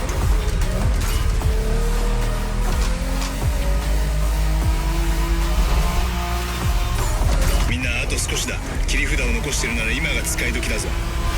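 A car in The Crew Motorfest racing game accelerates with a loud, rising engine drone that runs through the clip. Voices of in-game characters are heard over it.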